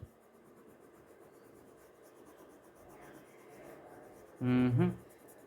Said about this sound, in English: So you can easily see from the texture the pencil moving very fast.